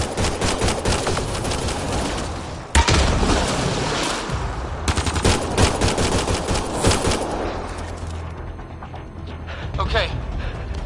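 Rapid automatic weapon fire from a squad in a Mass Effect Andromeda firefight, dense rattling bursts with sharp single shots, loud and continuous with brief gaps, under occasional shouted voices.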